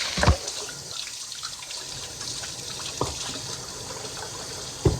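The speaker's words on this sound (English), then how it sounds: "I'm gonna wash my hands real quick." Water runs steadily from a kitchen tap while hands are washed beneath it, a continuous close splashing hiss with a few sharper knocks and splashes at the start, midway and end, no talking.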